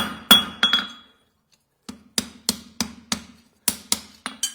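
A hammer strikes metal near an anvil in a farrier's shop, a few sharp ringing smacks, then a pause and a quicker run of close, loud blows with short metallic decays.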